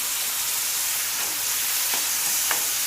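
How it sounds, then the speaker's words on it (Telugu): Tomato pieces frying in oil for a chutney, a steady close hiss of sizzling with a few faint stirring scrapes near the end. "ఈ టమాటా ముక్కలు వేగనివ్వాలి ఈ ఆయిల్లో."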